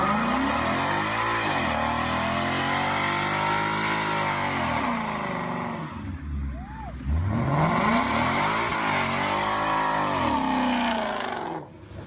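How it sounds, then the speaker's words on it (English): A 2017 Ford Mustang GT revs hard during a line-lock burnout, its V8 engine rising and falling in repeated loud sweeps with a brief lull midway before surging again, close and dominant throughout. "The tires just lock up and you can smoke them out like no tomorrow."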